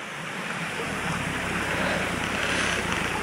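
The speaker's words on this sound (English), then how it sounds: "Man-made wall with water coming through." Water pouring through a man-made wall in a spring woodland near Cheddar Gorge, heard as a loud, steady, close rushing wash with some wind on the microphone.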